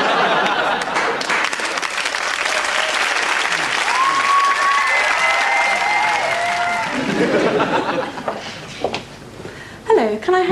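A studio audience at a comedy sketch show gives sustained, loud applause that is mixed with a few chuckles and people talking. The clapping fades toward the end, when a couple of voices break through.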